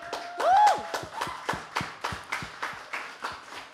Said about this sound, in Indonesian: tepuk tangan dulu dong yang buat yang udah join